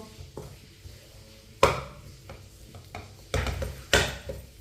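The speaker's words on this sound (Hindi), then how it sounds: "इसे ऐसे ही चम्मच चलाते हुए गर्म करना है।" A spoon stirs dates warming in a pan over low heat, making soft scattered scrapes and a few louder metallic knocks against the pan.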